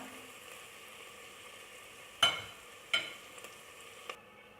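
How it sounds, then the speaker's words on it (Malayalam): Ginger-garlic paste sautéing in a pan for a Malabar chicken stew, a soft steady sizzle broken by a few sharp scrapes or taps of a spoon stirring, heard close and alone. "ഇഞ്ചി വെളുത്തുള്ളി പേസ്റ്റ് നന്നായി വഴറ്റി കൊടുക്കുക."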